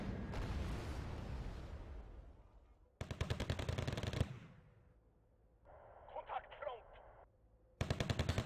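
Machine-gun fire from the Wargame Red Dragon battlefield, rapid broadband bursts near the start, around three to four seconds and again at the end, with quieter rumbling and a brief chattering mid-clip, no talking.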